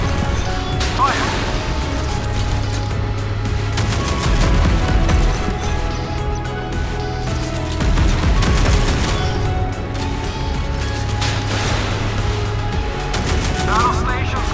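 Naval artillery gunfire in a warship video game: repeated heavy booms and rapid bursts of shots under loud game effects, with voices talking over the battle noise.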